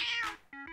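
A cat in the video game Store Kitty gives a quick meow followed by two short, sharp follow-up mews, close and clear with no talking.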